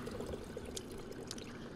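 Water runs from a fountain in the video game Prey as the player drinks, a steady close trickle and pour continuing without a break and with no voices over it.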